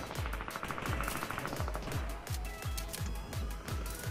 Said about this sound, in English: Ooh, I hear a gunshot.